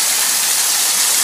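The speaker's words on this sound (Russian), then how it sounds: "у нас встретился на пути первый типа естественный водопад" A small natural waterfall on a hiking route at a Transcarpathian resort, a steady bright rushing hiss of falling water, close and loud, with no voices.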